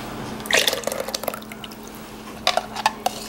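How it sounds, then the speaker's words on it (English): Foamy yeast mixture poured into a bowl of wet ingredients for homemade rolls, giving a short liquid splash, then a few scattered drips and dribbles close by, with no talk over it. "we're going to add that to our wet ingredients"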